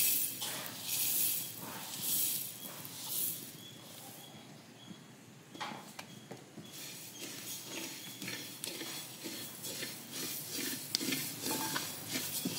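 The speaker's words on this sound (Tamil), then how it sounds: "நம்ம வந்து மல்லியை முதல்ல வந்து வறுத்து எடுத்துக்கலாம்." Coriander seeds dry-roasting in an uruli pan rustle and scrape as they are stirred, a soft, shifting hiss with repeated stirring strokes, close and quiet with no talk.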